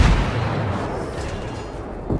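Warship guns fire in a naval video game, a heavy rumbling boom that fills the moment and slowly decays, with a smaller thump near the end.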